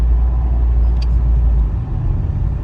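A car rolls downhill during a driving test while braking, its interior filled with a loud, steady low rumble of engine and road noise that eases slightly toward the end.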